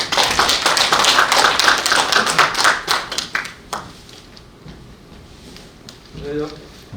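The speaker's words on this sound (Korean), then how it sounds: "큰 박수로 맞이해 주시기 바랍니다" An audience claps to welcome a lecturer at a Gyeongsan political talk, a dense burst of close applause lasting a few seconds before tapering into scattered claps and quiet, with a voice beginning at the end.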